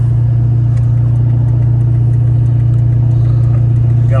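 The engine of a son's first car runs loud and steady at a constant rumble, close up, with no talking over it.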